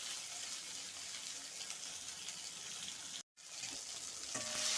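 Ingredients for a Tamil thogayal chutney sautéing in a pan, a steady close hiss and sizzle of frying that runs almost continuously, with one brief dropout before it resumes slightly louder.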